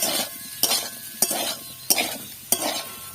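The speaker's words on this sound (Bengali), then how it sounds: "এবার আলুটাকে ভালোভাবে নেড়ে ছেড়ে ভেজে নেব" Potatoes fry in a pan with turmeric and salt, a steady sizzle broken by four sharp, evenly spaced scrapes of a spoon stirring them, close and fairly loud with no voices.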